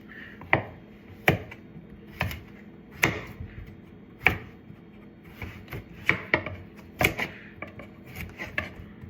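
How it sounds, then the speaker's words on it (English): Knife strikes on a cutting board as butternut squash is trimmed and chopped, giving sharp, irregular chops, about a dozen of them, close up over a quiet kitchen background. "I'm just kind of trimming off what I can see from the sides because I'm going to cut the end off anyways"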